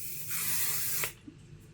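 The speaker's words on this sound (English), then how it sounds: "mist it through your hair" Texture hairspray mists from an aerosol can in one steady, close, bright hiss lasting under a second, cutting off sharply, followed by faint handling noise.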